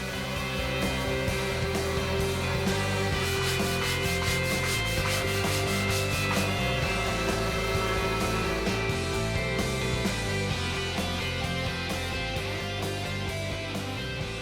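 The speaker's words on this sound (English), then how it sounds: "So much sanding." Continuous rubbing and scraping of hand sanding on an upright piano's wood runs throughout, loud and close, with steady back-and-forth strokes over a dense background.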